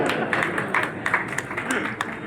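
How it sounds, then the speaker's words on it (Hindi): An audience at a family values workshop of a Sahu community association in Chhattisgarh claps in a short burst of scattered, uneven applause while someone speaks over it. "हाँ, ये साहसी लोग हैं, इनके लिए ताली बजाइए"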